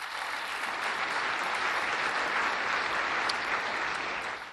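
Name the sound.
audience applause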